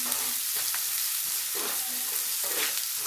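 Chopped onions sprinkled with salt fry steadily in a pan, giving a dense, continuous close sizzle broken by several stirring strokes.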